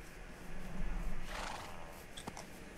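A horse in the Minecraft video game gives a whinnying neigh mid-clip, followed by a couple of brief clicks, over faint game ambience with no talking.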